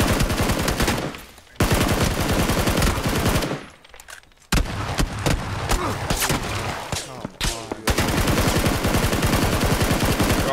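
Bursts of automatic gunfire in the battle royale game PUBG, loud and near, with rapid rattling volleys broken by short pauses and a brief quiet stretch.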